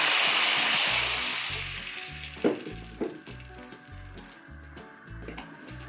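Water poured into a pan of golden-browned onions frying for a baked tilapia dish sets off a loud, broad sizzle that slowly fades, with a few clinks of stirring and a low steady musical backing underneath.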